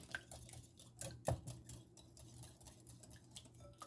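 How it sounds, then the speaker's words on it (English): Eggs whisked by hand for Mexican rice and egg burritos, giving a quick, irregular metallic clatter and ticking of wire against a bowl, fairly quiet and close, with no talking. "Grab your whisk. Whisk away."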